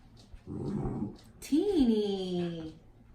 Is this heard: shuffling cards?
no